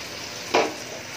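A kilo of tomatoes for fish biryani drops into hot oil and gives a brief, sharp sizzle that flares and quickly settles into a faint low hiss.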